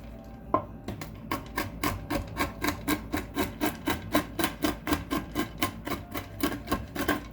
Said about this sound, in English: So all I'm going to do is give them a chop.